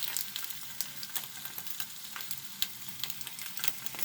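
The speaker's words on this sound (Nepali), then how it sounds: "यसरी मैले मोमोलाई फर्काई फ्राई गर्दैछु" Leftover homemade momos are re-fried in a pan, giving a soft, steady crackle and sizzle dotted with quick spattering pops, fairly faint and with no talking.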